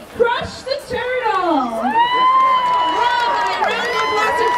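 A crowd at an evening pumpkin carving contest at Disney's Fort Wilderness cheers and whoops loudly for a third-place pumpkin, with excited yells and a shouting voice rising over the sustained din.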